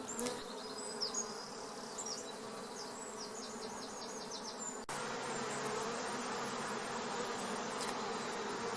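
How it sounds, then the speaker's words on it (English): A honey bee drone, held gently in a gloved hand, gives a steady, close, continuous buzz throughout, with faint bird chirps in the background. "this is a drone bee, which I'm just very, very gently holding in my glove"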